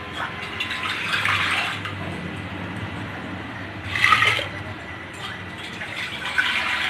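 Water poured into a pressure cooker for arhar dal, splashing in a few bursts with one louder gush midway, set against a steady low background hum.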